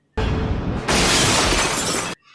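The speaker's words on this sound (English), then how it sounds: "he fell into a coffee table and the glass broke" A glass coffee table shatters in a 1989 action film as a man falls into it, a loud burst of breaking glass that swells into a dense crash for about two seconds before cutting off.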